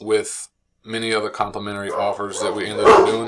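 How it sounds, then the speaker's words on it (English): Pit bull dogs barking in short bursts in the background, mostly under a man's continuous, close talking. "Excuse my dogs."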